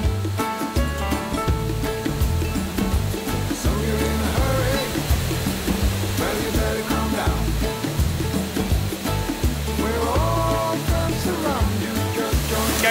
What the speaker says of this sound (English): You can't go to a waterfall without going for a little shower